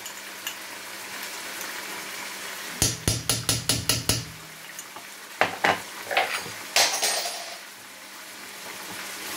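Garlic hits a hot pan while cooking Asian-style noodles with chicken, vegetables and soy sauce: a steady close sizzle under a quick run of sharp utensil clanks on the pan, then a few scattered knocks from stirring.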